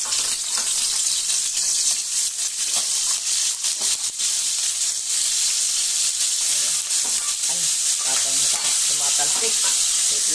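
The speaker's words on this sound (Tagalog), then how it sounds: "Ipiprito lang natin saglit." Chicken pieces for a Saudi-style chicken curry fry in hot oil, giving a loud, continuous close-up sizzle with crackling pops and spatters throughout, no talking over it.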